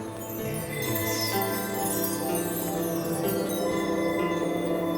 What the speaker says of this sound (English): Bells ringing.